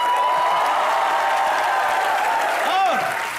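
A studio audience at a comedy show applauds steadily, a dense, even clatter of clapping that fills the whole moment without pause.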